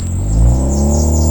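A used car fitted with an extra aftermarket muffler idles and revs briefly, giving a loud, deep, steady engine rumble up close.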